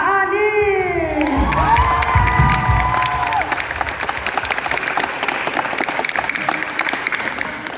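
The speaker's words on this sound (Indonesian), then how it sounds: "mari kita sambut narasumber kita dengan tepuk tangan yang paling meriah, Kak Anin." A school audience at SMP Muhammadiyah 1 Jakarta bursts into loud applause and cheering to welcome a guest speaker, with whoops and shouting children over sustained clapping that continues at steady strength to the end.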